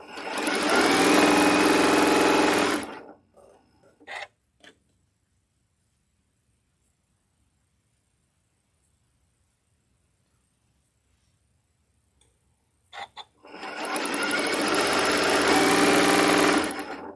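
A sewing machine stitches a seam at slow speed, a steady mechanical whirr of a few seconds that stops, then a quiet pause with small clicks of the presser foot, and a second run of stitching.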